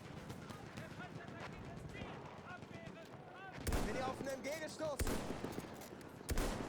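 Gunfire in Battlefield 1 rings out in rapid bursts of shots with loud blasts near the end, under excited talk from a player.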